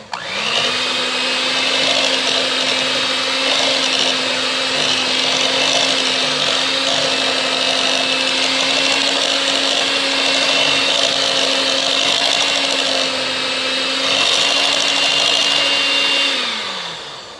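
A blender whirring steadily as it purees cheesecake filling for blueberry handpies until smooth, a loud, even motor hum holding for about sixteen seconds before winding down, with no talk over it.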